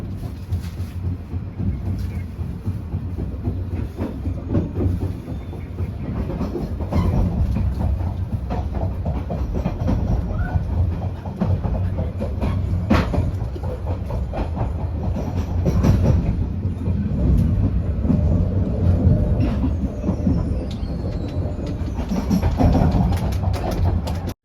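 The Airlangga passenger train from Jakarta pulling away from a station and rolling along the rails, a loud continuous rumble with rhythmic wheel clatter and occasional squeal heard from on board.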